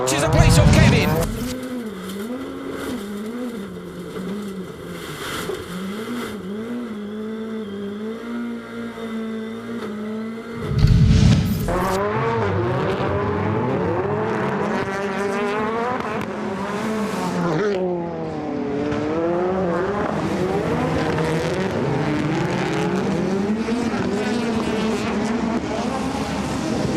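Touring race cars scream around a circuit, their engines loud and close with rising and falling revs as they accelerate and shift through gears. A commentator talks over the racing.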